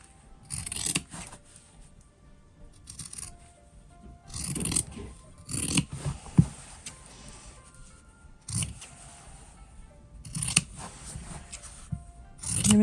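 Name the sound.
scissors cutting fabric for a sewn wallet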